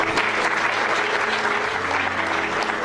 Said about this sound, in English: let's clap for our postgraduate students